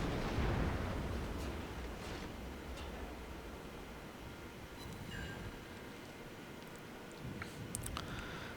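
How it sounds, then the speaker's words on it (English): Battleship guns of the New York boom out high-explosive salvos in World of Warships, a heavy low rumble opening loud and rolling on in a dense, sustained roar that fades slightly before a late swell. "New York's firing at me with HE."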